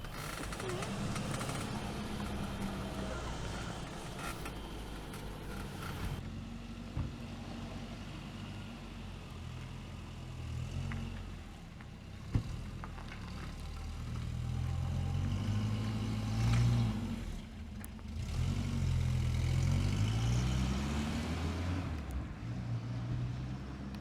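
A 1972 Hillman Avenger at around 40-50 mph, heard from inside the cabin as a low steady engine drone with road noise that rises and shifts with acceleration, while someone talks over it.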